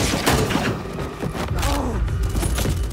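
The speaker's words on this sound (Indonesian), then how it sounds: "di tengah baku tembak" Gunfire rattles through a gunfight scene in an action film, dense overlapping shots and thuds in a loud, cluttered mix.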